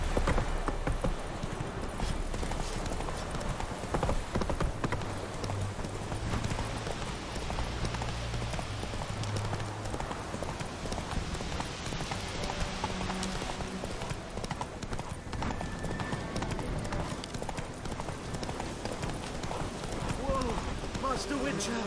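Hooves of Roach, the horse in The Witcher 3: Wild Hunt, clop in a steady running rhythm, loud and close, while voices talk over them.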